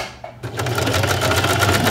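A sewing machine stitches a seam on a newborn-size baby sleeper, its close, steady whir starting after a brief quiet moment and running continuously with no talk.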